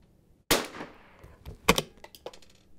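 A single crack of a rimfire rifle fired at an outdoor range, sharp and close, followed by a few fainter pops and clicks as the shot echoes and fades.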